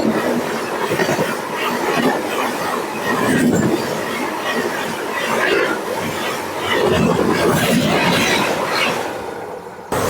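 Rumbling carriages and wheel clatter of a passenger train on the Erode to Mettur Dam line fill the scene continuously, with swelling roars as the cars roll along the track.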